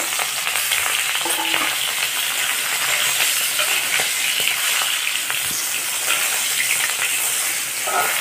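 Two hilsa fish heads frying in hot mustard oil in a wok, a loud continuous crackling sizzle with occasional spits and pops throughout, no talking.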